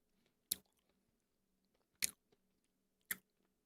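Three separate crisp crunches of someone chewing Crunky, a crunchy coffee- or mocha-flavoured chocolate, heard close up with quiet gaps between each bite and no talking.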